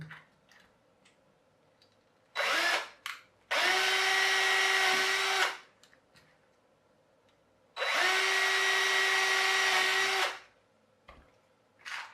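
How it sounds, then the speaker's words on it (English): A power drill drills a pilot hole in a USB desk fan, whirring in three bursts, one short and two long, loud and close, with quiet pauses between. "small drill bit first for a pilot hole through the existing hole"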